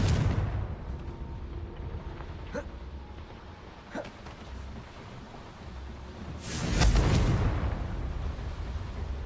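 A Confringo blasting spell goes off in Hogwarts Legacy as a sudden loud burst with a booming rush. Sharp smaller cracks come before it over a low background rumble, and a voice is present.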